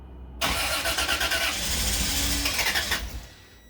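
Turbocharged Lexus IS300 with a 2JZ-GE engine cranking on its first start, a loud rhythmic starter churn lasting about two and a half seconds without catching, then fading out.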